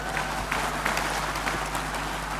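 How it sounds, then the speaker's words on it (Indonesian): Audience at a central-bank event claps in a steady, moderately loud burst, with a low steady hum running underneath. "Mana tepuk tangannya?"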